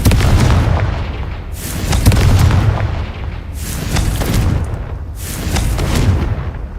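Repeated booming Confringo spell explosions in the Hogwarts Legacy video game, three or four loud heavy blasts with rumbling tails in quick succession.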